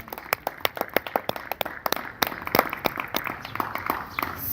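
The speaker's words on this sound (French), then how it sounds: "On peut applaudir quand même pour l'artiste." Applause from a small audience after a gospel singer's performance, a quick run of sharp separate hand claps that thickens into steadier clapping, moderately close, with no talking over it.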